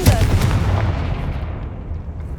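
Confringo blast spell cast in the video game Hogwarts Legacy: a sharp, loud explosive boom at the start that rolls off into a low, rumbling decay.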